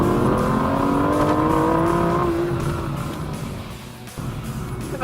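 2013 Aston Martin V12 Vantage with a manual shifter on a twisty road, its engine revving loudly and climbing in pitch, then easing off and falling back to a lower drone; no one speaks.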